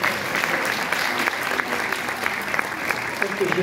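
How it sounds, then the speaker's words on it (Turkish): Steady applause from a crowd, dense and continuous throughout, with scattered individual claps standing out. "bir alkış isteyebilir miyim"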